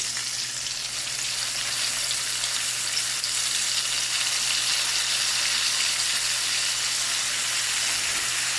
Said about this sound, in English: I'm going to be placing them in the oil